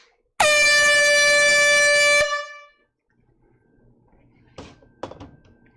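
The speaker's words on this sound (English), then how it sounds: "I'm going to bring out the air horn." A single loud, sustained air horn blast lasting about two seconds, then quiet followed by a couple of soft thumps.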